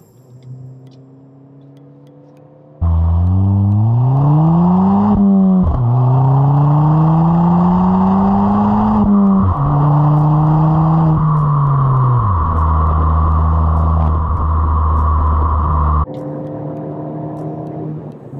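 A modified Ford Fiesta ST-3 hot hatch with a Revo Stage 1 tune accelerating hard, the engine note climbing through several gears with pitch drops at each shift, loud and close, then settling to a lower drone.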